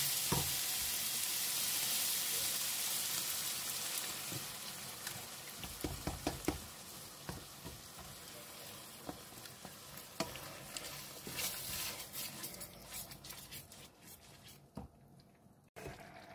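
Cream poured into a hot pan of mushrooms and bacon for carbonara sets off loud sizzling frying that gradually settles into softer bubbling, with scattered clicks and pops of stirring toward the end.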